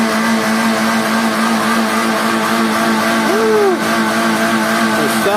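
A car engine revs hard and holds a strained, steady drone while its tires struggle on a slippery red dirt road in rural backcountry during the rainy season, loud and close, with a brief pitch swell partway through.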